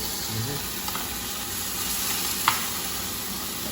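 Chicken scaloppine frying in a pot with a steady hiss and soft stirring, one brief clack near the end, no talking.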